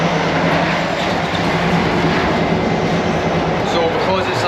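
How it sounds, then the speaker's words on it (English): A 50-year-old diesel train rolls along with a loud, continuous roar and rattle heard right beside the carriage coupling, steady and dense the whole time, with no talking. "this is why it's loud, because we're right next to the coupling"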